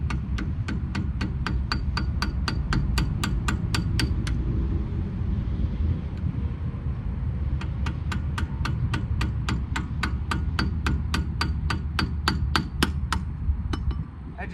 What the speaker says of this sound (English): you're going to want a screwdriver and a hammer